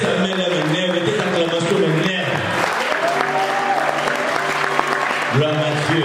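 A church congregation applauds and cheers loudly, with clapping mixed with shouting voices and a speaker's voice over the noise.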